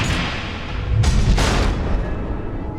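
Missile explosions in Batman: The Enemy Within, two loud back-to-back blasts over a constant heavy rumble, close and booming.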